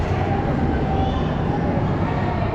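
A ropeway cable car arriving at a station on the route from Nashik to Vani, heard as a steady, loud mechanical rumble and hum that continues throughout with no pauses.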